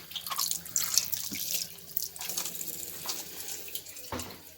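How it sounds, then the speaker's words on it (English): Tap water running and splashing inside cut chiles as they are rinsed in a sink, a steady hiss with faint drips and handling knocks, no talking. "then we're going to rinse inside because we want to take the seeds away"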